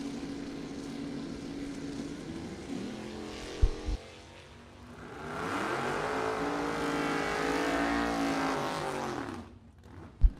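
Drag race cars at the U.S. Bracket Nationals, engines droning and revving, a short lull, then a loud swelling roar of a car accelerating past that cuts off sharply near the end, distant and outdoors.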